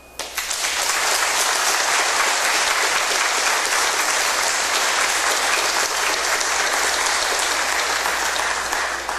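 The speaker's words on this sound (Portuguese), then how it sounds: "Eu vou aplaudi-lo. Se alguém sentir vontade, me acompanhe." An audience at a talk on cattle handling and meat quality breaks into loud, sustained applause, rising quickly at the start and holding as a dense, even roar of clapping for about nine seconds.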